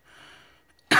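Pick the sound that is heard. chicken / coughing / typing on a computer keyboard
coughing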